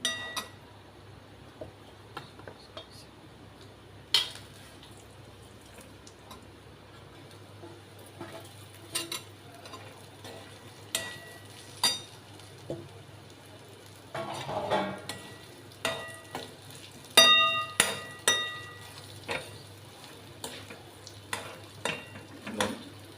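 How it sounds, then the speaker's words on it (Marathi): Coriander vadas fry in oil as they are stirred and turned, giving a soft, low sizzle broken by scattered spatula scrapes and light metallic clinks that grow busier toward the end. "कोथिंबीरचे सर्व वडे तेलातमध्ये टाकून घेऊन चांगलं असं परतून घेऊ"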